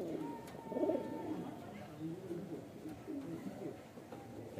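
A black pair of Andhra pigeons, hen and cock, give deep rolling coos up close, with one louder burst early and then softer repeated phrases; a faint voice may sit underneath.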